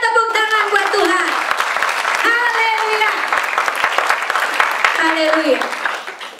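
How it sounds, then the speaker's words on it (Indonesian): A congregation at a Christian church sermon claps steadily for several seconds, a dense, loud patter of applause with voices calling out over it. "berikan tepuk tangan buat Tuhan"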